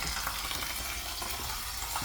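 Soup cooking in a pot on a camping gas stove gives off a steady, close sizzle and bubbling hiss that runs without a break, with no talk.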